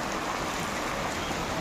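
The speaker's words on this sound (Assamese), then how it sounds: "ইমান বৰষুণ পৰি" Heavy rain falls steadily in a dense, unbroken hiss that stays loud and even throughout, with no voices or other sounds.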